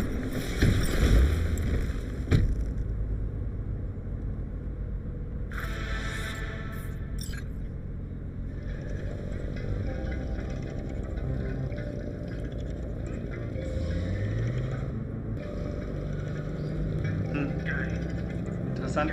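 A car driven through Night City in Cyberpunk 2077 rumbles with a steady low engine drone and road noise over game music and effects, while someone speaks over it throughout.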